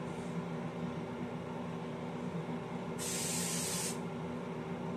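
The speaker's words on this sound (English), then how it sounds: "And then lastly, of course, a ton of hairspray." Tresemme hairspray is sprayed onto hair in one quick hiss lasting about a second, over a quiet room hum.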